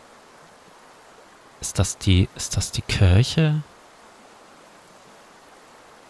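Steady broadband rush of a river flowing in the video game Metro Exodus, a constant watery wash running throughout, with someone speaking briefly over it in the middle.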